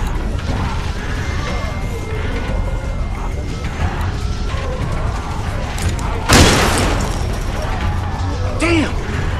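Gunfire and crashing impacts from The Walking Dead: 400 Days video game, with a loud sustained barrage of shots and smashing noise and one sharp crash standing out near the end.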